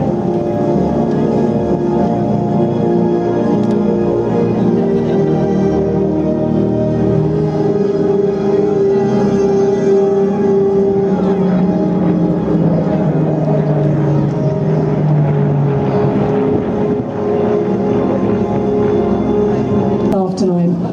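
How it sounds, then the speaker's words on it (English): A Spitfire's propeller engine drones steadily overhead at the Clacton-on-Sea air show, its pitch slowly shifting as it passes, while a voice talks over a loudspeaker throughout. "As you see the Spitfire closing in, the elliptical wings."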